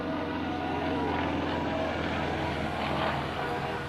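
A Yak aerobatic propeller plane's 365-horsepower radial engine drones loudly and steadily during an air show routine, a deep throbbing roar with a faint rise and fall in pitch.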